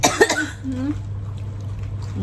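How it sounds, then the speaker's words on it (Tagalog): A person coughs a few times close up during a Thailand street-food meal, right after tasting very spicy sweet-and-sour dipping sauce, with light chatter and background noise around. "Sige, ubo pa."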